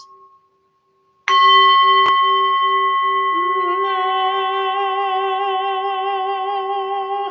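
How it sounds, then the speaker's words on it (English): A bell is struck once inside a livestream, a loud bright ring that starts suddenly and sustains with a shimmering, slowly decaying tone. "Let's see if I can ring it on purpose."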